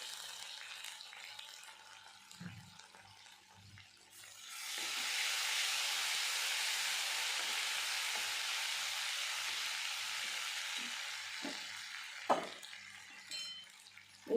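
Cumin seeds and ginger-garlic paste hit hot oil in a pan for a Maharashtrian buttermilk kadhi, bursting into a steady broad sizzle that holds for about ten seconds, with a few clinks and stirring knocks over it.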